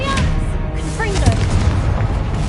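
A blasting Confringo spell explosion from Hogwarts Legacy, a loud muffled boom mixed into busy combat noise while a voice shouts spell names over it.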